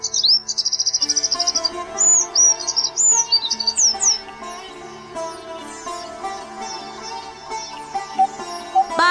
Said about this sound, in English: Sunbird.